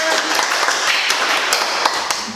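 Children clap together during a Sunday school service at a church, a continuous burst of quick, dense claps that stays loud and close for the whole moment.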